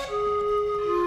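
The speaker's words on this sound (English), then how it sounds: "And the next flute I added in was a pan flute," A pan flute holds one clear, steady breathy note in a tribal-style game score, brief and up close with no other sound around it.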